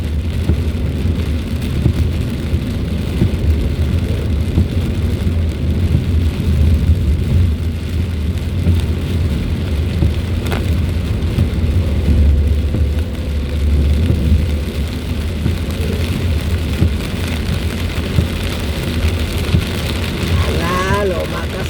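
Steady heavy rain drums on a car during a typhoon on a road trip, a dense continuous wash with low engine rumble beneath, while a voice talks intermittently over it.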